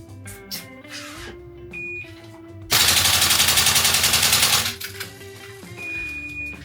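A Tokyo Marui Type 89 gas blowback airsoft rifle fires on full auto in one loud, rapid burst of about two seconds, its shots evenly spaced and fast. Quieter background sounds come before and after the burst.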